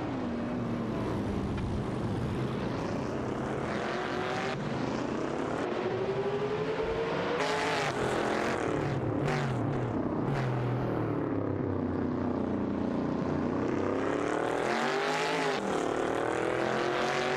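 Race car engines of a Holden Torana and a Nissan Skyline 2000 GTR in a video game race, droning continuously and loudly with rising and falling pitch as gears change and cars pass.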